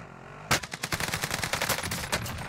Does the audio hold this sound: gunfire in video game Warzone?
yes